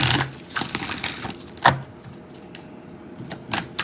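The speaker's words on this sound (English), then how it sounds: "shuffling." Close, papery riffling and snapping of a deck of cards being shuffled, with a few sharper clicks and taps scattered through.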